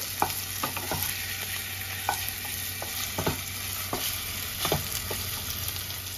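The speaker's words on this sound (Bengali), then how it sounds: "মাছগুলো আবার হালকা ভাজা হয়ে গেছে" Pieces of katla fish fry gently in hot oil in a pan, giving a steady soft sizzle that runs throughout, broken by scattered clinks and scrapes of a spatula as the pieces are turned.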